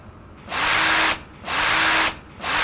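A power drill drives screws into aquarium cabinet panels in two long bursts and the start of a third, each a loud, near, high-pitched whir separated by short pauses.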